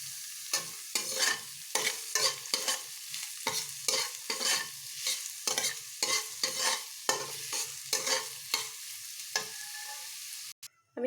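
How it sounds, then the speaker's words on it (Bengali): Carrots and onions frying in a pan for a breakfast poha, with a steady sizzle broken by repeated rhythmic scraping strokes of a spatula stirring the vegetables, close and fairly loud, no talking. "গাজরটাকে একটু ভালোভাবে ভেজে নেব। এবার আমার যে পেঁয়াজগুলো ছিল কুচিয়ে রাখা সেগুলোকে দেব।"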